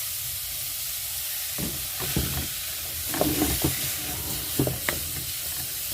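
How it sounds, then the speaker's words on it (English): Tomatoes hit a hot pan for egg curry and start sizzling after a quiet moment, with crackling, spitting bursts and stirring scrapes that grow louder and more uneven toward the end. "Let me add in my tomatoes first."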